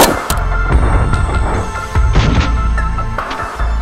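7.62x39 rifle rounds strike an armor plate in a string of sharp, loud cracks and impacts fired in quick succession outdoors, each followed by a brief ringing decay.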